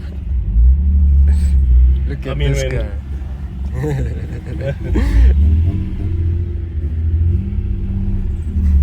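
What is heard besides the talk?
VR6 car engine with GT35 billet clone turbo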